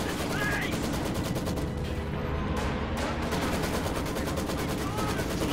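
Dense machine-gun and mixed gunfire in a WWII strategy video game, including an MG42 under attack, with loud continuous crackling bursts and booms filling the scene and a voice talking over the battle.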